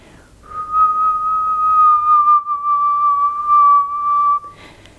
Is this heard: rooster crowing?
no